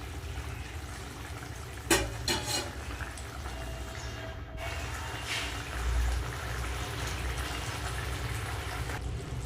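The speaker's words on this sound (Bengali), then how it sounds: "কোপ্তাগুলো দিয়ে বেশিক্ষণ ফোটাবো না অল্প একটু ফুটিয়ে নামিয়ে নেব" Aloo koftas simmering briefly in a red curry gravy, a soft continuous bubbling and gurgling with a few sharper clinks near the start and no voices.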